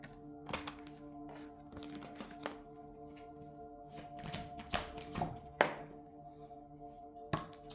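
Tarot cards being shuffled by hand, making irregular soft thunks and quick riffling taps close by against quiet music, with no talking.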